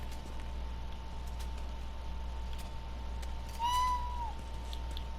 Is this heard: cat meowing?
yes